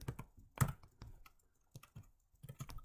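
Typing on a computer keyboard while writing spreadsheet code: quiet, close key clicks in irregular bursts with short pauses, no voices.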